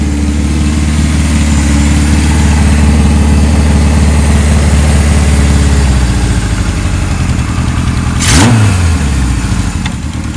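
A 1978 Kawasaki KZ1000 LTD motorcycle idles loudly and close with a steady, throbbing four-cylinder pulse, then the note dips and a brief sharp rev sweeps up and falls back.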